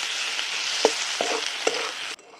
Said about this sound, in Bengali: এই দেখো আলু দিয়ে মশলাটা ভালো করে কষিয়ে নিচ্ছি।